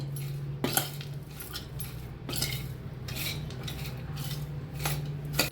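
A spoon scrapes and clinks against a bowl while mixing cabbage salad, a steady series of stirring strokes, close and fairly quiet, with a faint hum underneath.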